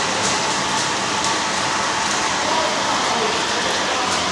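Rain falling steadily, heard as a close, even hiss that holds at a constant level throughout with no breaks.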